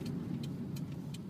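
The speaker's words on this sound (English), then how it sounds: "a car. I thought was going to come in, but didn't come in." A car passes outside, a low, steady engine rumble heard from indoors, moderately faint and continuous, with light clicks on top and no talking.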